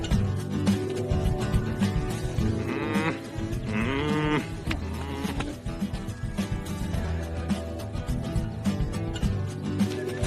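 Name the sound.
alpacas on a farm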